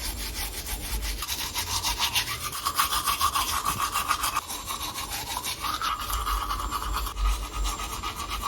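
A toothbrush scrubs teeth fitted with braces brackets in small circles, giving a close, continuous wet scratching with rhythmic bristle strokes and no talking.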